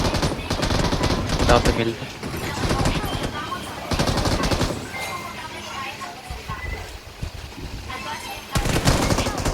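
Video game gunfire bursts out in rapid automatic volleys of loud, close shots, coming in several clusters, with voices talking over and between the shooting.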